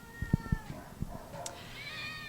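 Black calico kitten from a litter of six giving a few faint, short meows amid low thumps and background shop noise, close by.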